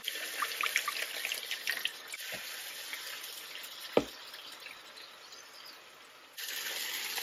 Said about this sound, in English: I'm gonna take the remaining water and I'm gonna add more water to this.